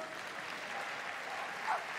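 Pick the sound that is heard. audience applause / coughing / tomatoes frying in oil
audience applause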